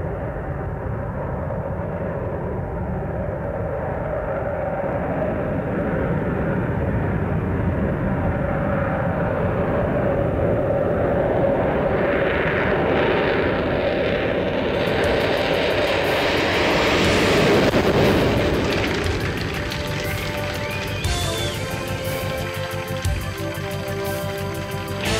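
A YF-23 Black Widow II prototype stealth jet takes off, its engine roar loud and close, swelling into a broad surge before easing slightly, with no speech.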